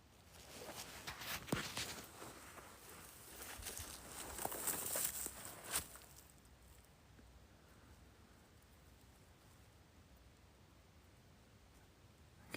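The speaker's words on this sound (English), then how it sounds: "Keep on hearing footsteps" Soft, faint footsteps crunch and rustle on leaves outdoors in a field, an irregular patter of steps for several seconds that then fades into quiet ambient hiss, with no voices.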